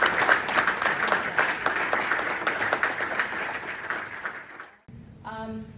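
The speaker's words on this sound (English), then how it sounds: "Round of applause." A ceremony audience applauds a Marine Corps promotion to major: dense, loud crowd clapping that runs steadily, then cuts off abruptly near the end, followed by a brief burst of a voice.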